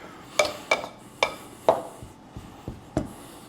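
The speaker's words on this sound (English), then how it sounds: "you want to keep doing this until all of your butter is cut up into like pea-sized pieces or smaller" Butter is cut into flour for buttermilk biscuits with a pastry cutter, several sharp scraping and clinking strokes against a bowl in an uneven rhythm, close and fairly quiet, with no talk.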